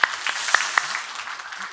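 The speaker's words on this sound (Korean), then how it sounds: "박수하겠습니다." Church congregation clapping during a Sunday morning worship service, a brief patter of hands with a few sharper claps standing out, moderately close and fading quickly.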